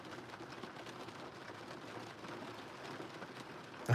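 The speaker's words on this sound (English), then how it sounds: "I'll talk over the sound of the rain" Steady rain falls outdoors as a continuous, even hiss of drops on surfaces, unbroken and without talk.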